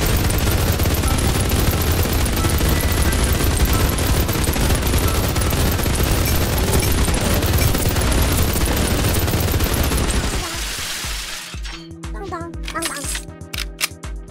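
Loud, continuous rapid gunfire from the Mini World video game fills most of the stretch without a break. It then thins into separate sharp shots and clicks near the end.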